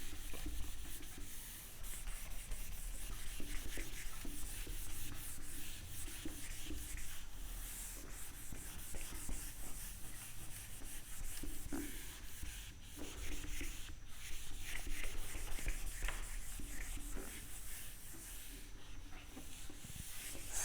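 Someone rubs writing off a lecture board with a steady, continuous scrubbing hiss of repeated strokes, close and moderately quiet, lasting about twenty seconds with no talking.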